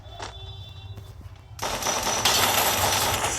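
Mobile shooter game gunfire erupts halfway through, a dense continuous burst of rapid automatic shots after faint quieter clicks and pops, loud and close with no voices.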